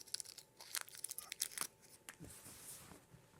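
A wrapped object is being unwrapped with quiet, close crinkling and tearing of paper or plastic, in short bursts that trail into softer rustling.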